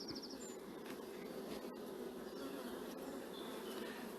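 Honeybees buzz steadily around an open hive at an apiary, a dense, continuous drone heard close up with no voices.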